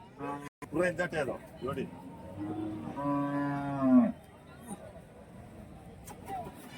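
Young calves, around five to six months old, moo at a rural cattle market in Kundarapalli, Krishnagiri, with one long sustained call standing out amid crowd chatter and nearby voices haggling.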